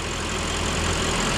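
A 4.2-liter V8 in a 2011 Audi A8 runs at a steady idle, a low, even rumble with a faint rhythmic pulse, close and constant throughout with no voices.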